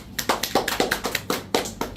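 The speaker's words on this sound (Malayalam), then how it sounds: "okay very good clap" Children in a classroom clapping together in a quick, steady rhythm of sharp, close claps, about a dozen distinct strikes, with almost no talking.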